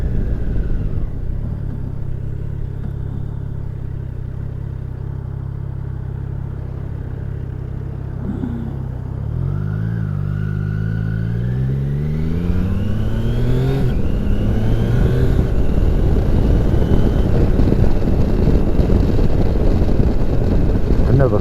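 A Triumph Tiger Sport 660 motorcycle engine on a road ride, humming steadily and then pulling up through the revs with rising, sweeping tones into a loud, rough roar, under constant wind buffeting.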